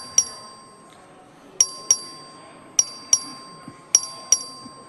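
Bell rung in a legislative chamber to call a record vote, a series of sharp, bright metallic dings repeated in uneven pairs over quiet room tone.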